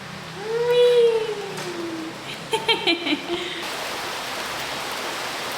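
Heavy rain pours with a constant loud hiss at Boquerón National Park, El Salvador, broken briefly by a rising whistle-like tone and a few faint knocks midway.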